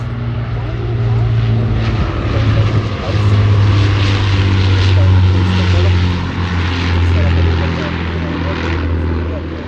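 An Avro Lancaster four-engine propeller bomber flies past at a seaside airshow in Portrush, with a loud, sustained piston-engine drone that swells and holds for the whole stretch. A commentator talks over it.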